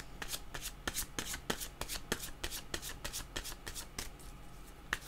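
Oracle cards being shuffled by hand for a reading, a quick irregular run of crisp riffling flicks and slaps, close and quiet, with no talking.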